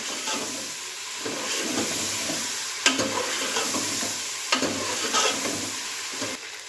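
Cumin is worked into aloo gosht in a pot over a constant loud sizzle and hiss, while a spoon scrapes and knocks against the pot at intervals. It is close-up and wordless.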